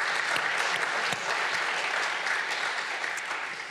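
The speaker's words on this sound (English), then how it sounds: "So let's give a round of applause to our panel" Audience applause at a panel discussion on protecting Antarctica and the Arctic: dense, steady clapping from a crowd that holds for several seconds and fades a little at the end.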